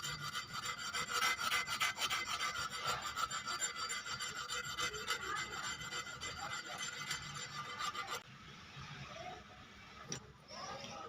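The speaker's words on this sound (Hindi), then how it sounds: "पहले हमने ऐसे घुमा के घिसा, एक साइड घिस दिया, फिर अब हम दोबारा इस तरफ घुमा के और इसको ऐसे घिस देंगे" Emery paper rubs back and forth over a metal part from a Siruba 747F overlock sewing machine, making a close, steady rasping scrape in repeated strokes that pauses briefly near the end, with someone talking over it.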